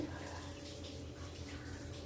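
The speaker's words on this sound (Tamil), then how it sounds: "நல்லா தண்ணி ஊற்றி அலசிட்டு ஒரு ஓரமாக வச்சுக்கோங்க" Stingray pieces rinsed under running water with turmeric and salt: a continuous soft splashing and gushing wash, low and steady throughout, with no voices.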